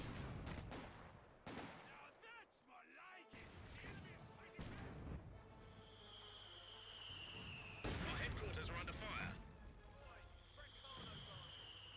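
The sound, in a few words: mortar and artillery fire in video game Company of Heroes 2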